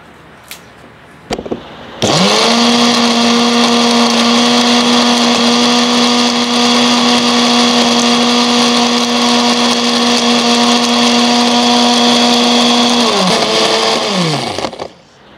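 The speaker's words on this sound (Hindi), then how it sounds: "उसको ग्राइंडर में डाल लें" Electric grinder pulverising pounded dry roti into flour: a loud, steady high-pitched motor whine starts abruptly after a few clicks, holds for about eleven seconds, then winds down as it switches off.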